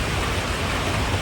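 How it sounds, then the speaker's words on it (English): Steady rain falls as loud, close, dense hiss with no breaks, covering the whole stretch. "it's raining again"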